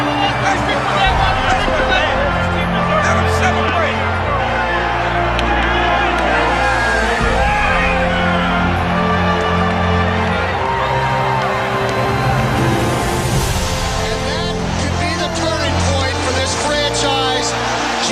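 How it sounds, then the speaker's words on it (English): Stadium crowd at an Arizona Cardinals NFL game roaring in celebration after a playoff-clinching win, a loud, continuous mass of cheers, whoops and babble with voices close by throughout. "Listen to the crowd. Let them celebrate."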